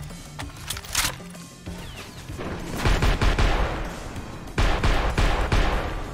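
Gunfire in the video game Maximum Action, with loud bursts of automatic shots and crashing impacts in clustered volleys, heaviest in the second half.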